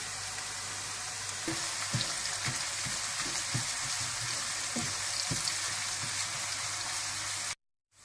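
Onions fry lightly in a pan for a white chicken korma, giving a soft, steady sizzle with occasional scattered clicks and taps from stirring.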